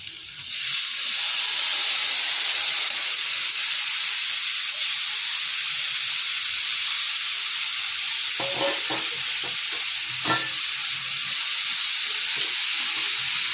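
Spring onions frying in hot oil with ginger garlic paste give a loud, continuous sizzle and steamy hiss, with a few spoon stirs and clinks in the later seconds.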